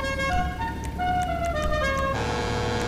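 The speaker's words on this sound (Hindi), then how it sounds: "हॉर्न की आवाज़ सुन लीजिए।" A truck-style horn fitted to a modified motorbike in GTA V blares in sustained, shifting tones, stepping between pitches across a few seconds over a low engine rumble.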